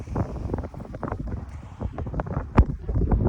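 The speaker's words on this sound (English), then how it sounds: "sorry, it's so windy." Steady rumbling wind buffeting the microphone in a winter garden in Texas, gusty and uneven throughout, with a louder thump near the end.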